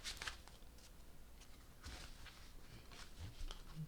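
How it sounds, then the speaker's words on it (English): Baroque Tarot deck being shuffled by hand, soft papery riffles and taps in a few brief bursts, quiet and close with no talking. "I'm going to do a couple more shuffles."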